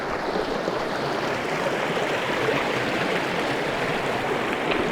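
A mountain river flows through a New Zealand valley, a steady broadband rush of water, loud and close, continuous throughout with no voices.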